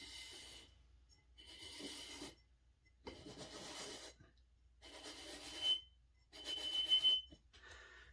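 A pencil is drawn around a brass pan while building a brass annealer, giving five close, dry scratching strokes of about a second each separated by short pauses.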